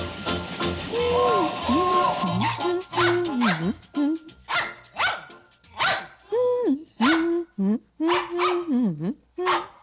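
A dog barks repeatedly, with some howling, whining yelps mixed in, loud and close, in an uneven rhythm.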